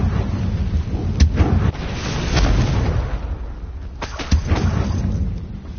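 Blasting-spell explosions in Hogwarts Legacy, a couple of sharp cracking booms over a low rumbling background, separated by a pause, with no talk.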